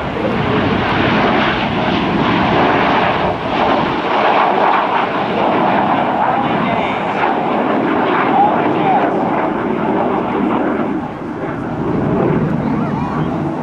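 A military jet taking off at an air show during a joint services open house produces a loud, sustained engine roar that swells slightly and holds steady for the whole stretch.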